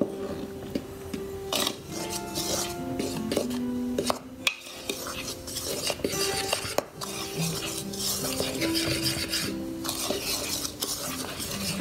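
Oatmeal chocolate chip cookie mixture is stirred in a bowl, giving near, continuous scraping and rasping with occasional utensil clinks and no talking.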